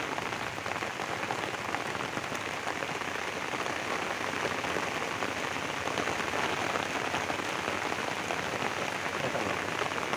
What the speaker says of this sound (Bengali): দেখতে পাচ্ছ রোদ হচ্ছে আবার বৃষ্টিও হচ্ছে